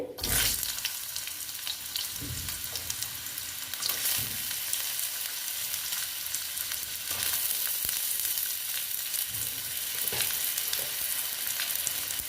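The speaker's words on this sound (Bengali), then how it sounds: "আলুটাকে আমি একটু ভেজে নেব" Potatoes frying in oil, a dense continuous sizzle with crackles and occasional stirring knocks, close and fairly loud throughout.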